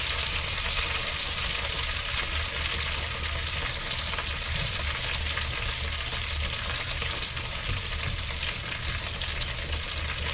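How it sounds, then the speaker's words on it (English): Tomatoes tossed into a hot pan with fennel and kale for pasta, a steady loud sizzle and crackle continuing throughout, close and without talk. "now I'm gonna toss those tomatoes in"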